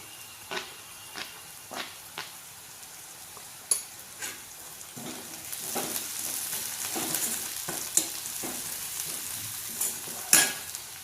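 Green chillies fry in a pan for a spinach curry, with a soft continuous sizzle and a series of scraping stirs at irregular intervals, quiet and close, without talk.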